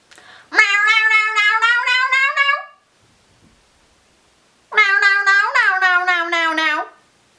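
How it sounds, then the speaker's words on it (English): A house cat gives two long, loud, drawn-out meows close by, separated by a short silence. "There's a cat."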